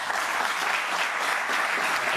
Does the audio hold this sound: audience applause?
yes